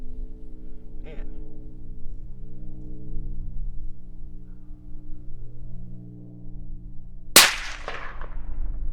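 A single suppressed shot from a .300 Win Mag rifle cracks sharply and loudly near the end, then decays briefly over a steady low background hum.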